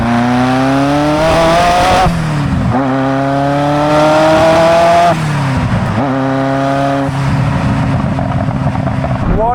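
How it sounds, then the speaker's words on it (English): A high-revving Ferrari F40 engine roars loudly, climbing in pitch through several bursts with brief dips between them, close and powerful throughout. "Oh, I love this engine."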